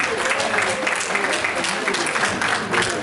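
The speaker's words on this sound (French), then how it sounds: "Est-ce qu'on peut applaudir très très fort pour ces enfants, s'il vous plaît?" Audience clapping for children after their show at a 70th birthday celebration, a continuous crowd of hands at steady volume with voices mixed in underneath.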